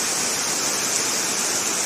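Heavy rain falls steadily in a scenic natural setting in Kerala, a dense continuous hiss that fills the clip, loud and close, with no voices.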